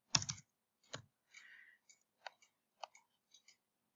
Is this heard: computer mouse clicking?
yes